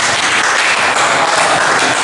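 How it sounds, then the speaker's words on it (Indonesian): A classroom bursts into loud, dense applause that fills the whole short stretch. "Tepat sekali tepuk tangan."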